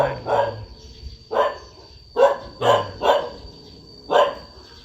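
At a Buddhist temple, a dog barks repeatedly in irregular single and doubled barks, loud and fairly near, with quiet gaps between them.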